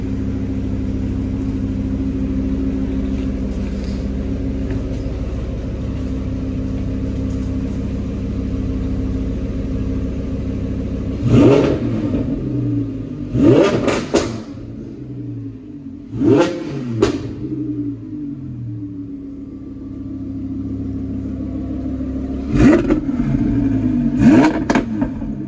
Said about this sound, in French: Isma, tu peux aller mettre des petits coups de gaz?